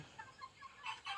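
A young chicken with a cold and a cut beak gives soft, quick clucks and peeps close by, faint and brief, ending in a slightly louder pair of calls.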